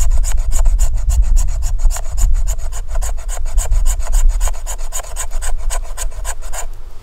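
A Silky Gomboy 240 folding saw scrapes fatwood into fine fire-starting shavings. Rapid, even, rasping strokes run loud and close for the whole stretch, with a low rumble underneath.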